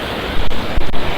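Water rushes steadily down a mountain stream in Kashmir, a loud, continuous broadband roar heard up close with a few brief gusts of wind noise.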